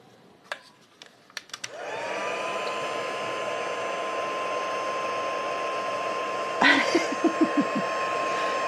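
A heat tool blows hot air steadily onto a craft decoration, a continuous loud whooshing hum after a few clicks, with a brief clatter of handling near the end.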